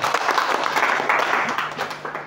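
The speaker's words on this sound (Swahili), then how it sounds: "wanaume mtakuwa pigia Yesu makofi" A church congregation at a couples' teaching service claps for Jesus in a dense, steady round of applause that holds for a couple of seconds and then thins out.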